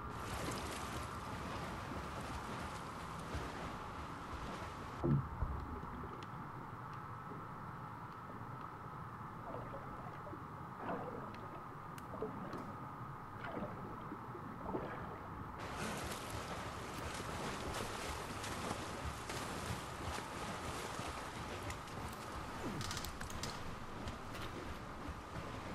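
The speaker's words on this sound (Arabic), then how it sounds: "لازم نطفي ده المحرك، بس من فين" A steady engine runs in the Wolfenstein II video game, a continuous low rumble and hum with a wind-like rushing wash, unchanging in level from start to finish with no voices.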